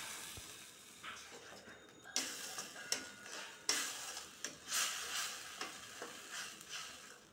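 Tomato paste frying in a pan with ginger, garlic and green chili paste for a prawn malai curry, a soft steady sizzle with intermittent scraping stir strokes and light clicks of the spatula.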